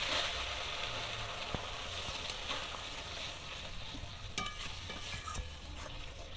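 Water goes into fried masala sizzling in oil for a Bengali fish kalia gravy, giving a continuous loud frying hiss with stirring scrapes and a few sharp clinks near the end; no talking.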